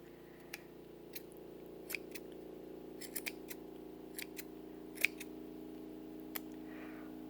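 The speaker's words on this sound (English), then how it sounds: "I'm going to keep trimming this up a little bit" Scissors trim a yarn pom pom in a series of short, crisp snips at irregular intervals, some doubled, over a steady low hum, no voice heard.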